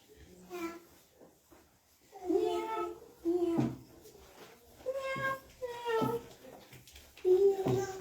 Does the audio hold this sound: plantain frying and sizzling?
no